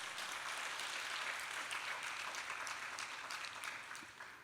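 A church congregation applauding in praise, a dense, distant wash of many hands clapping that holds steady, then gradually fades toward the end.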